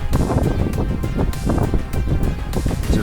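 Strong wind buffeting the microphone on a boat at anchor while a fish is reeled in against the wind, a steady loud roar with gusty bursts and splashing water throughout.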